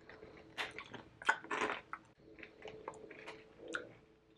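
Close, crisp crunching and chewing of pumpkin tortilla chips, several irregular bites in a quiet room with no talking.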